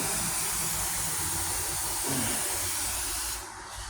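A steady, broad hiss of a paint spray gun spraying a 1998 Ford Ranger tailgate panel during rust repair, loud and continuous throughout, easing slightly near the end.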